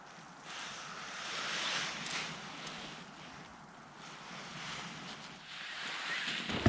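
Steady winter wind gusting and buffeting the microphone outdoors at a campsite, rising and falling in strength with a faint watery rush beneath.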